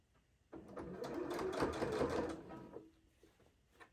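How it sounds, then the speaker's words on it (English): A sewing machine stitches straight across a tote bag in one soft, steady whirring run of a couple of seconds, close and quiet, easing off at the end with no talking. "I'm going to just stitch straight across."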